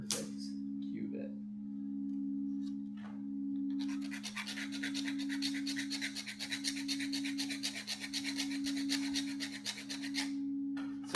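A metal piece cut for a tensor ring is filed down with quick, rhythmic rasping strokes for several seconds, over a steady low electrical hum, with brief taps before the filing starts.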